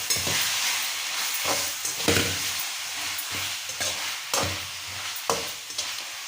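Noodle sauce with soy sauce being stirred in a hot pan, with repeated scraping strokes of a utensil over a soft steady sizzle, close up, and no voices.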